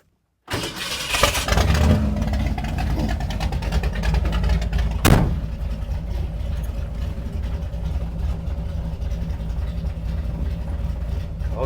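A 428 FE V8 runs in a 1966 Ford F100 during camshaft break-in. It starts up sharply and settles into a loud, steady, rumbling idle close by. A brief sharp knock comes partway through, and the rumble continues with no talking.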